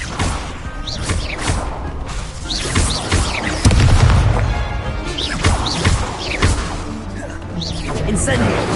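Incendio fire spell cast repeatedly in Hogwarts Legacy on PS5, a series of loud booming, crashing magical blasts and whooshes layered with game effects, with a voice talking over them throughout.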